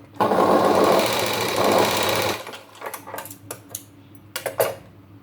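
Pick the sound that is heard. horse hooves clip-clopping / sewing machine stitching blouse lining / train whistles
sewing machine stitching blouse lining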